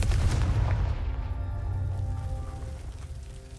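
A Confringo fire spell blasts in Hogwarts Legacy, a booming, rumbling explosion that starts loud and decays slowly over a few seconds with no voices.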